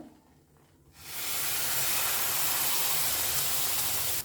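Ground paste tipped into semolina frying in ghee: after a quiet second, a sudden loud steamy hiss erupts and holds as a dense, steady sizzle up close, no speech.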